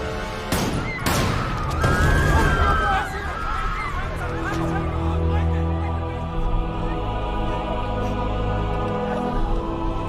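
A documentary sound effect of gunfire: two loud, close shots ring out back to back, followed by a rumbling crowd and crash-like noise that fades into a steady background hum.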